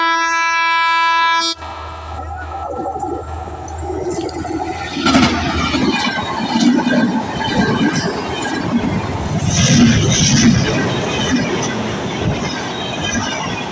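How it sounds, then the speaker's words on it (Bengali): A train rolls in on the railway track, a steady loud horn blast at the start giving way to rumbling, clattering wheels and rushing noise that swell and stay close for the rest of the passage. "ট্রেন আসা শুরু হয়ে গেছে, এখনই ট্রেন আসবে"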